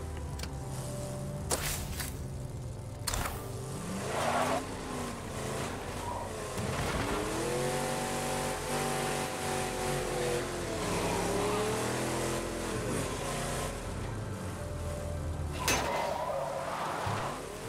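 A car in State of Decay 2 drives along with its engine droning and shifting pitch, which rises and falls across the whole stretch. Sharp knocks and crashes break in now and then as it moves, and no voices are heard.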